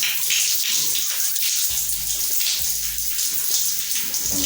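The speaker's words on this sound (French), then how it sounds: "Vous les mouillez bien, vous les hydratez avec l'eau." Water runs steadily from a tap while hair is wetted for curly hair washing, a continuous close splashing rush with a low hum entering partway through.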